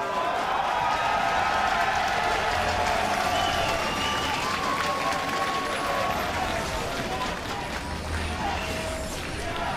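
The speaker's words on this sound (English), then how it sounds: "as you can hear the crowd chanting" A packed crowd at a North American esports semifinal between CLG and Team Impulse keeps up a continuous, loud roar of chanting and cheering, with commentators talking over it throughout.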